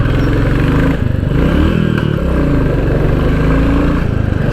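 A Royal Enfield Classic 350 motorcycle rumbles loud and close while riding through a market, its steady low engine thrum holding throughout with slight variations in pitch and a faint clatter.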